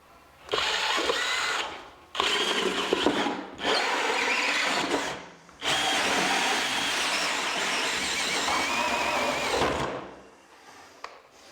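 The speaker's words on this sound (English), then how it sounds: "So now I'm going to drill this out." Loud hole saw drilling in four long bursts separated by short pauses, the last run lasting several seconds before winding down, with a faint click at the end.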